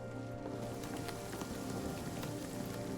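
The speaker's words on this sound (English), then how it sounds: "It rains in my damn house." Steady rain falling inside a house in the video game Nightingale, a continuous close hiss of drops spattering on surfaces, with no voices.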